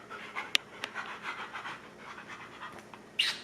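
A dog panting indoors in a condo, quick soft breaths repeating close by, fairly quiet, with a couple of sharper clicks and a brief louder rustle near the end.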